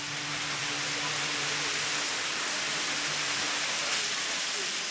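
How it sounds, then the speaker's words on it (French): The Caldeirão Verde waterfall on Madeira, dropping just over 100 metres, roars as a dense, steady hiss of falling water, constant and close with no pauses. "Alors voilà donc cette fameuse cascade du Caldero Verde."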